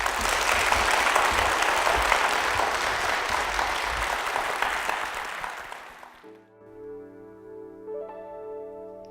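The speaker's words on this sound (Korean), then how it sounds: "여러분도 그런 큰 마음을 담아서 응원의 박수 부탁드립니다." A church congregation gives a round of encouraging applause, steady and full for about six seconds before fading out, after which soft sustained organ or keyboard tones take over.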